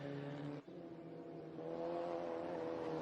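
A race car at Mallala circuit drones steadily at a distance, its engine note holding a whirring tone with a brief dip then rising slightly as it carries on through the lap.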